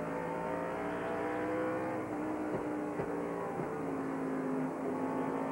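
Racing trucks, including a yellow and a blue one, roar around a race track in a pack, their engines droning loudly and steadily with pitch shifts as they pass, heard alone without commentary.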